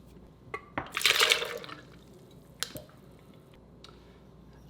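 About half an ounce of water poured briefly into a mix for a keto margarita, a short splashing trickle of about a second followed by faint clinks and quiet, with no talk.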